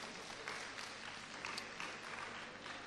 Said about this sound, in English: you must can give it a better round of applause